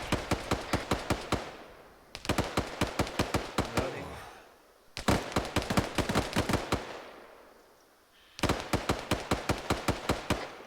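Bursts of rapid automatic gunfire during squad training, loud and close, firing in long rhythmic strings of regular shots with short pauses between volleys.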